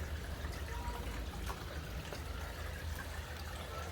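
Spring water runs and pours down a hole inside a crumbling ruined building, a faint steady trickling rush with a low rumble, with no voices over it.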